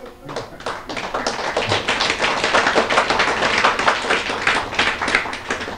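Hand clapping by a group, a quick, loud, fairly steady run of claps that goes on for several seconds with no pauses.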